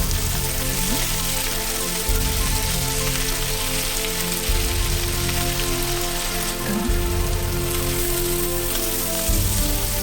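Mushrooms sizzling in a pan with garlic, turned and browned on the second side, give a steady, close, dense crackling hiss that runs without pause, with a few soft low knocks from the pan underneath.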